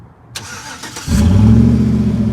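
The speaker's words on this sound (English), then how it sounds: "Truck sounds really nice too. It's got a really nice throaty to it." A 5.3-litre V8 in a lifted 2013 Chevrolet Silverado 1500 4x4 cranks briefly, catches, and settles into a loud, deep, throaty idle that rumbles steadily close by.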